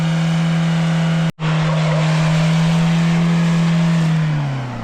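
A German-made car with a stuck wheel revs hard on a muddy field road, its engine holding a loud steady drone that briefly cuts out and then winds down near the end.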